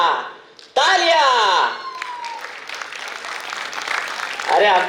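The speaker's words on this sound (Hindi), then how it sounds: "तालियां!" A burst of applause rises abruptly after a spoken line in a drama, loud and close at first and then settling into a thinner scattered clapping before swelling again, with a voice heard over it.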